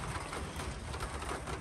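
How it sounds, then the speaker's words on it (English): Steady rain falls outdoors in a dense, even hiss that holds constant the whole time, with no talking. "it's starting to rain pretty good again"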